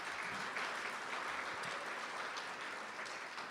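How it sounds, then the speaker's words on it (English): An audience applauds at a journalism school awards livestream, a steady even wash of clapping that fills the whole stretch, alone and moderately distant. "Let's give Sam a round of applause."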